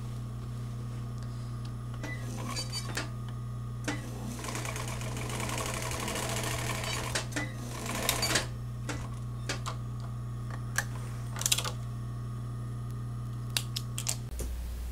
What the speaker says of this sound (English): And then from the needle it sews the fabric.